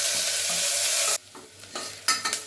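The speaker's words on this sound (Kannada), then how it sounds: "ಈರುಳ್ಳಿ ಚೆನ್ನಾಗಿ ಫ್ರೈ ಆಗಿದೆ." Onions frying in oil for chicken biryani: a loud, dense sizzle for about a second, then cuts to quieter stirring with a few sharp clanks and scrapes against the pan.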